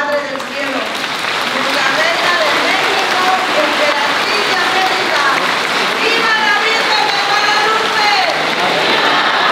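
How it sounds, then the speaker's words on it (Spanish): A large crowd at a Guadalupe torch-run celebration applauds loudly for Our Lady of Guadalupe, a dense, sustained roar of clapping that holds steady throughout, with voices mixed in. "Vamos a darle un aplauso muy, muy, muy, muy fuerte a nuestra Madre del Cielo."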